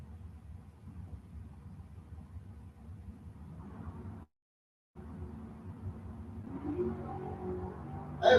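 Drag race launch of a 72 Maverick and a 79 Camaro at Gainesville Raceway, a distant low engine rumble that cuts out briefly, then rises again with building revs and a sharp burst at the end.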